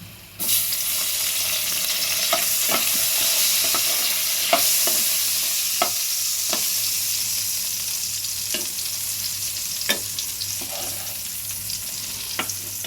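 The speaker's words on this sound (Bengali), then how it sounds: "চলো বেগুনটা ভাজা হোক।" Eggplant sizzles steadily in hot oil while a spatula scrapes and clacks against the pan at irregular intervals, close and clear with no talking.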